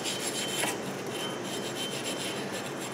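Steady abrasive scrubbing of rust on the outer face of a Ford Escape front brake hub, a continuous close rasping rub without pause and no talking.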